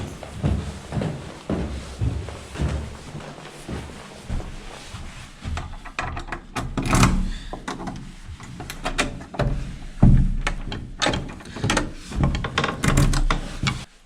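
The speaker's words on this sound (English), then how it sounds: "The German doors are really mechanical to open, so you have to twist it and then pull before it lets you in." Mechanical latch and handle of a German apartment building door in Berlin being twisted and pulled open, giving a series of close clunks, rattles and knocks spread over several seconds.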